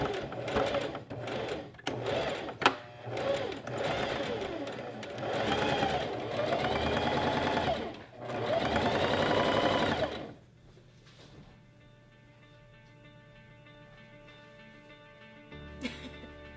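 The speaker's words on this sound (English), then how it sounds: "We're just gonna fold up and sew 3 inches." Sewing machine stitching a 3-inch skirt hem, loud bursts of rapid mechanical whirring with brief pauses, then stopping to a quiet hum near the end.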